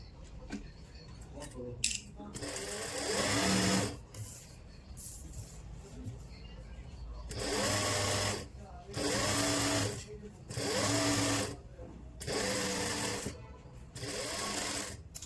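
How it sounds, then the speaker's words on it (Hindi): A sewing machine runs in several short bursts, stitching a crease on the lining of a kurti. The close, loud whirring comes in spurts separated by pauses, and a person speaks between them. "इसके ऊपर सिलाई लगा लेंगे, कच्ची सिलाई"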